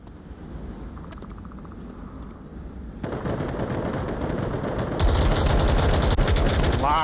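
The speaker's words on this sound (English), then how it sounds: "Lots of suppressing fire coming out from Sri Lankan on the South Hills." Sustained suppressing automatic gunfire from a competitive video game match swells into dense, rapid bursts that grow louder and more layered, with distant shots underneath.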